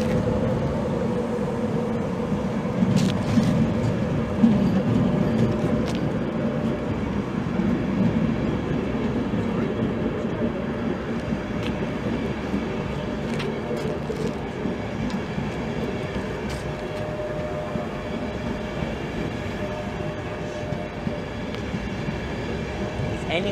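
A Hull Trains service from Hull to London King's Cross passes at Peterborough station with a steady, loud rumble and rail noise held for over twenty seconds, with faint clicks on top.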